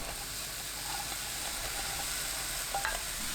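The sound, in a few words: beef brisket stir-frying in a hot pan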